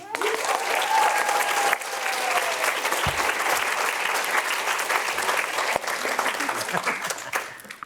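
Audience applause fills a PaleyFest Fall TV Previews panel in Los Angeles for the Mixed-ish cast and producers, a dense sustained clapping crowd with faint scattered cheers, steady for most of the stretch and tapering off at the end.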